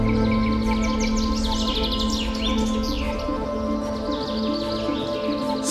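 Birds chirping at Katarniya Ghat in Uttar Pradesh, many overlapping calls and tweets in a loud, continuous chorus over a layered, humming background.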